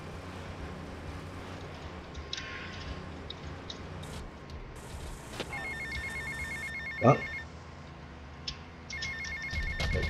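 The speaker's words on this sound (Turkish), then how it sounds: "Telefon çalıyor." A telephone rings in the video game GTA Vice City, with repeated electronic ring tones over quiet game ambience and a brief spoken word.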